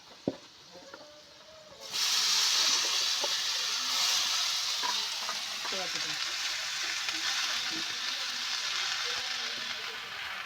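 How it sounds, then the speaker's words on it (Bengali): Potatoes and drumstick leaves tumble into a pan of fried onion, setting off a sudden loud, hissing sizzle that holds steadily for several seconds after a quieter start with a few light clinks. "এবার আমি আলু আর সজনে পাতা দিয়ে দেবো।"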